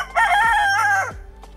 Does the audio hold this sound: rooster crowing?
yes